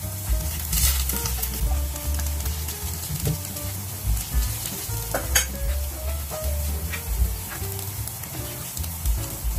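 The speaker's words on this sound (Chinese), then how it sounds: "这个时候就可以放入鸡翅根了。" Chicken wing drumettes go into a hot pan with soybean paste and are stirred, giving a steady loud sizzle with scraping spatula strokes and occasional clinks throughout, no talking.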